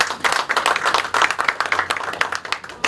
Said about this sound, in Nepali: उहाँहरूको लागि हजुर आफै ताली।